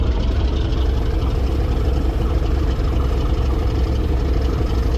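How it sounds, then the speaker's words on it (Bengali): Caterpillar engines of the MV M Khan-7, a new luxury river launch from Barishal, run in a loud, steady, low rumble that holds constant throughout with no pauses. "তো আপনাদেরকে লঞ্চের ইঞ্জিনের একটু থ্রাস্টটা দেখাই"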